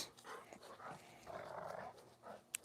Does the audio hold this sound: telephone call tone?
no